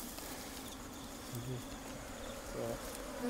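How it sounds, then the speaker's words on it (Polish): A swarm of African bees makes a steady, low buzzing drone that surrounds the listener, faint and continuous, with brief passes of individual bees. "Pszczoły afrykańskie tak właśnie brzmią."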